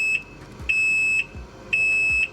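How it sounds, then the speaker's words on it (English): A Can-Am Maverick R side-by-side left in permanent neutral gives a high steady warning beep in three long pulses, each about half a second, with short gaps between them, loud and close against low idle rumble. "mind the beeping, guys. It's just because I have the machine in permanent neutral."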